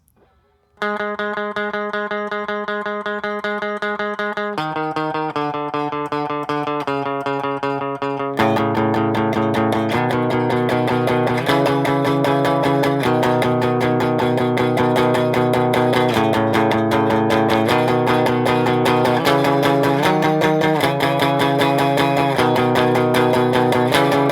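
Guitar plays the chord progression of a song with a bright, effects-laden tone, a sequence of ringing, sustained chords changing every second or two, loud and alone.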